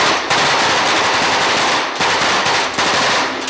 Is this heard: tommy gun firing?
yes